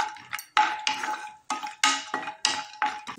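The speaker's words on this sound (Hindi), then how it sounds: "पहले हम इसमें ड्राई फ्रूट्स जो है उसको हल्का सा रोस्ट कर लेंगे" Dry fruits are lightly roasted in a hot pan and stirred with a spoon, making a run of short, rhythmic scraping and rattling strokes, close and crisp, with a quiet sizzle between them.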